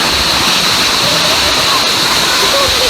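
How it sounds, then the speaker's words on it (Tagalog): Waterfall roaring close and loud, a steady broadband rush of falling water that fills the whole moment with no letup. "We're currently in the waterfalls right now."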